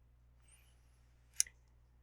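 A single sharp computer mouse click, close and crisp, against a quiet background.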